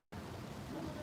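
Steady rain falling in Sydney, a close, even hiss of drops that starts abruptly and carries on without pause.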